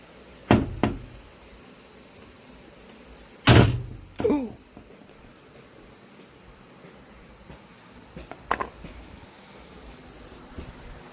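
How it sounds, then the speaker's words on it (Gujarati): A door is pushed shut indoors in a quiet room, giving a few sharp thunks and knocks: a double knock near the start, a louder slam with a rattle around the middle, then lighter taps, over a steady faint electrical hum. "દરવાજો બંધ કરી દઈએ"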